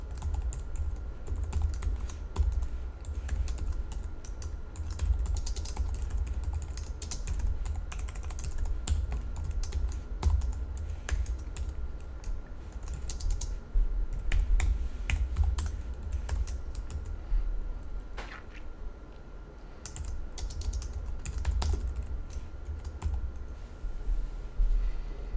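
Computer keyboard typing while writing code, a steady stream of irregular key clicks and taps close by over a low background hum, with brief pauses between bursts.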